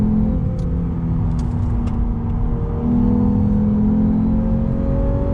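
A 2019 Lexus RC350 F-Sport's engine drones steadily while driving, a continuous low hum that lifts slightly in pitch partway through, loud and close with no voices.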